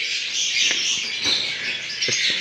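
Birds in an aviary chirp loudly and steadily at close range, with an albino and creamino pair nearby. High bright twittering runs throughout, broken by a few short sharp calls and no voices.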